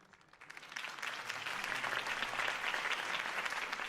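Video game applause from a crowd in Batman: The Telltale Series breaks out, swelling quickly and holding steady, a dense wash of clapping with no talking over it.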